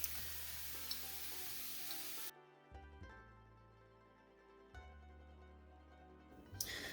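Shallots and browning mushrooms sizzle in a pan, a steady frying hiss that drops away briefly, leaving quieter crackle before the sizzle swells back at the end.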